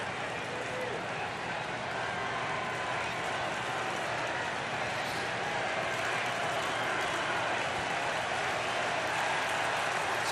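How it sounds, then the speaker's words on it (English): Baseball stadium crowd at a Cubs at Brewers game swelling into a dense, continuous roar of cheering and clapping, loud and sustained throughout. Voices sit within the din. "Crowd coming to a swell now"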